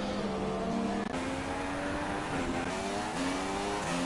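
Formula 1 race cars at the Bahrain Grand Prix in a racing video game, their engines whining steadily with pitch shifts as they race in the background, no talk over it.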